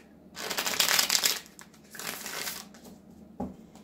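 Tarot cards being shuffled by hand, in two brisk rustling, riffling bursts with a short pause between, then a single soft tap near the end, close by and fairly quiet.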